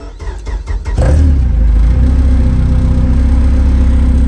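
A car with a K24 nitrous engine cranks for about a second, then fires and settles into a loud, steady rumble with slight revving, heard alone and close.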